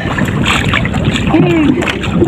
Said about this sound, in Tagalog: Hindi na talaga humina yung hangin.